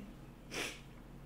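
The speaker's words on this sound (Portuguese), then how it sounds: "eu tô espirrando" A single short, faint sneeze bursts out over quiet room tone, with no speech.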